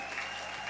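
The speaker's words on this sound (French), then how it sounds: "Est-ce que quelqu'un peut applaudir très fort pour le roi des rois?" A church congregation claps during a worship service, a brief burst of steady, dense applause from a crowd, moderately faint.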